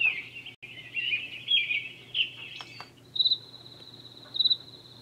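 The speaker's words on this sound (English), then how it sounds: "Those are birds." A white noise machine plays several birds chirping and trilling in quick bursts over a steady insect-like drone, fairly close, with a repeated high whistling call in the second half.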